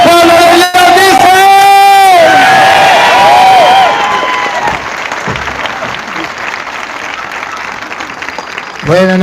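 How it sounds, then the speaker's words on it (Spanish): Loud applause and cheering from a church congregation at a Catholic service in Houston, with voices shouting and whooping over dense clapping that gradually thins out before a voice returns at the end. "Si usted quiere escuchar la palabra de Dios, expréselo con un fuerte aplauso, pero fuerte, fuerte."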